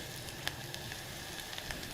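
Corn masala fries quietly in a pan, a soft steady sizzle with a few faint pops and stirring ticks.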